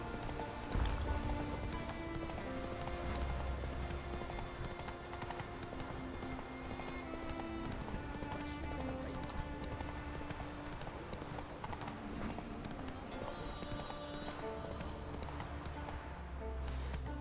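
Roach the horse gallops in The Witcher 3 video game, a rapid, continuous clip-clop of hooves running steadily for the whole stretch, with faint ambient texture underneath and no speech.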